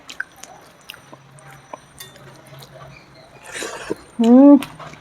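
Fish curry with soft cooked papaya is eaten up close, giving quiet wet chewing and squishing sounds, followed by a short burst of voice near the end.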